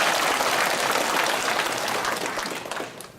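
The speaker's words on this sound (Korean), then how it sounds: "시간을 주신 하나님께 감사의 박수 한번 합시다." A church congregation bursts into warm applause during a Sunday service, dense and loud at first, then thinning and fading out near the end.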